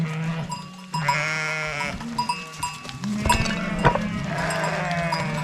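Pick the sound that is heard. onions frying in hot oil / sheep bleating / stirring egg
sheep bleating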